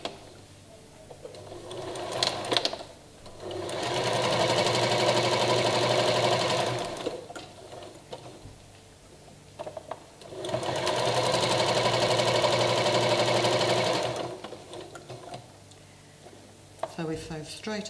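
Sewing machine stitching fabric strips for a slanted strip bag, running in two steady, loud bursts of about four seconds each, with quiet pauses and handling noises between them.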